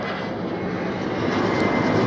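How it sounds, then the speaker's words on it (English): Swiss Airbus A321 with sharklets landing at Zurich Airport, a steady broadband jet roar that builds slightly in loudness as it passes close by, with no voices. "next landing, Swiss A321 from Rome"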